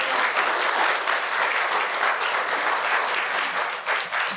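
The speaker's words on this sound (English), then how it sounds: "How about a round of applause?" An audience at a school district spelling bee final applauds its top two sixth-grade spellers, giving steady, loud, continuous clapping with no voices over it.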